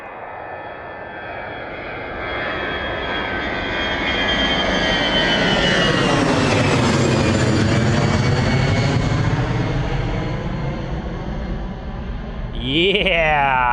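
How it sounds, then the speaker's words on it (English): An EasyJet Airbus A320 jet taking off at Bristol Airport, its engine roar swelling to a loud, sustained rumble with a rising and falling whine as it passes, then easing off. "A320 heading out to Newcastle, EasyJet."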